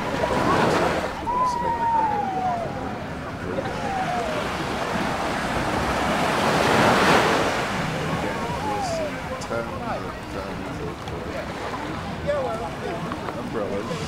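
Ocean waves break and wash onto a beach in a steady, broad roar that swells and recedes, with wind buffeting the microphone and faint voices in the background.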